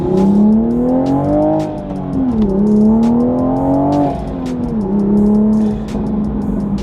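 Manual Toyota Supra MK5 accelerating hard on the road, a loud, close engine note rising steadily through the revs with brief dips at gear changes.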